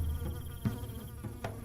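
Hornets swarm and buzz around a hive dropped as a booby trap along a jungle patrol route, a steady close insect drone with a few sharper rising buzzes as individuals pass.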